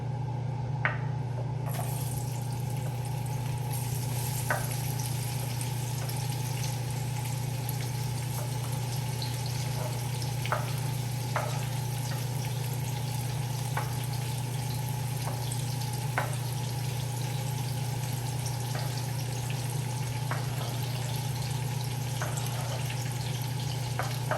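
Vegetables and seasoning sauté in a pan for brown stew fish with a steady, close sizzle and a constant low hum, broken by faint scattered clicks from stirring, over a long stretch with no speech.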